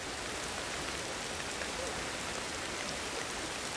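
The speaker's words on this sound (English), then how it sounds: "Is that the rain, maybe?" Steady downpour during a thunderstorm in the prehistoric jungle of Ancestors: The Humankind Odyssey, a dense, even hiss of rain on surfaces filling the whole stretch without pause.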